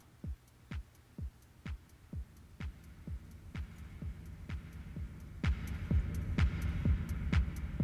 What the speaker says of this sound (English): you can hear that reverb.